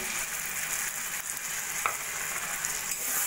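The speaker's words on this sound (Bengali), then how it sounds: "ডাল ভালো করে একটু কষিয়ে নেব।" Chicken, red lentils and Gobindobhog rice fry in spiced oil in a pan for khichuri, a steady close hiss and crackle with faint stirring scrapes, no voices.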